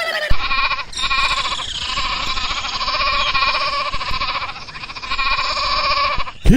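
A cartoon goat bleats in a long, wavering, nasal cry that runs almost continuously for several seconds, loud and close, breaking briefly between calls.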